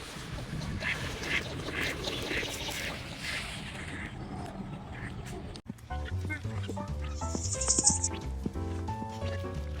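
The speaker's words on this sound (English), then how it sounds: "And there are ducks everywhere." Ducks quack at a neighborhood pond in a city park, scattered calls mixed with birdsong and outdoor ambience at moderate distance, with a person talking over them.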